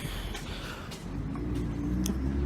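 A car passes along a main road in Cambridge, near a car park. Its steady tyre and engine rumble is moderately loud and swells slightly as it goes by, with no talk over it.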